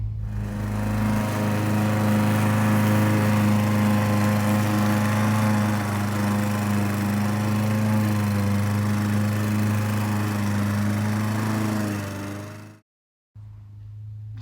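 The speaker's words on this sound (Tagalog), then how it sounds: "Sobrang ingay ng ano, lawn mower." A lawn mower engine drones steadily and loudly at close range, a constant low hum that cuts out abruptly near the end.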